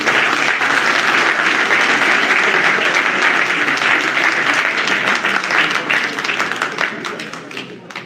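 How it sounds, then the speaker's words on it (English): A large crowd at a Peter Obi gathering in Frankfurt, Germany applauds loudly and steadily, sustained clapping that fades slightly toward the end. "Can we clap for that,"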